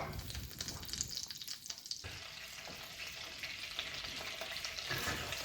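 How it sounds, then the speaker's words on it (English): Butter melts and sizzles in a hot frying pan, ready for mushrooms, giving a continuous close crackling hiss with a faint stirring scrape and no voices. "the butter's all melted and sizzling nicely"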